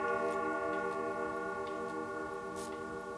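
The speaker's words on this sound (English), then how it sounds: "the grandfather clock started striking the hour" A grandfather clock ticks steadily and evenly, close and fairly quiet, with a faint ringing hum lingering beneath the ticks.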